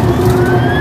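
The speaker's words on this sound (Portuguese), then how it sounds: "A sirene ligada." A SAMU ambulance on the BR-153 highway sounds its siren in a brief, loud steady wail, heard close over road and engine rumble.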